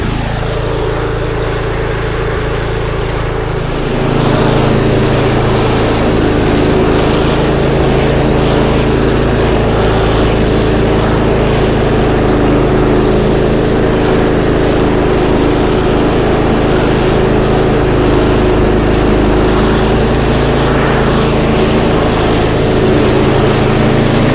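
A vintage lawn mower engine runs close and loud. It starts at a lower pitch and steps up after a few seconds to a steady, buzzing drone that holds to the end.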